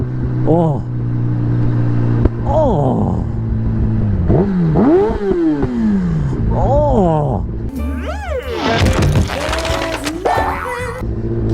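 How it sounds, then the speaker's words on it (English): An inline-four superbike's engine revs up and down in repeated rising and falling sweeps, then accelerates hard with a loud, rising howl that stays close. "Oh, the noises from this superbike are exotic. Oh, who said inline fours were boring?"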